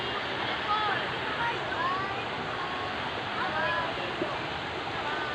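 Steady rushing of shallow river water flowing, a constant broadband wash with faint higher tones over it.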